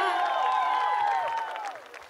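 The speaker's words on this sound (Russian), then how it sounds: "искупайте его в овациях" Applause from a concert audience rolls on as dense, steady clapping that fades out toward the end, with whistles or voices rising above it.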